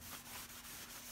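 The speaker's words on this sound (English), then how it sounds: "So I'm just gonna clean it now. And wipe it down." Close, soft rhythmic rubbing as a cloth wipes down a new brake disc rotor on a 2000 Saturn SL2, a few quick repeated strokes at low volume.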